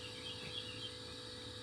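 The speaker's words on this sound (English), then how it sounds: "You may be able to hear the fuel pump running in the background" A Land Rover Defender TD5 fuel pump runs while purging air after a fuel regulator replacement, giving a faint, steady electric hum that holds unchanged in the background with no speech.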